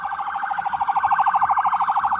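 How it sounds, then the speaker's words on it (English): An ambulance siren wails in a fast rhythmic yelp pattern, loud and growing slightly stronger as it approaches, with no talking over it. "Here comes the ambulance."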